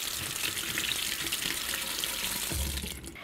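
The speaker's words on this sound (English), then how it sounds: "And then take it out and rinse it" Cold tap water runs steadily into a sink for rinsing, a close, continuous splashing stream that tapers off near the end.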